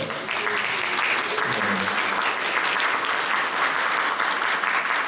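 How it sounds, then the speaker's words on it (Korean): A church congregation claps in welcome for a newly registered member during a Sunday thanksgiving service, steady even applause filling the room for about five seconds. "박수로 좀 환영해 주실까요?"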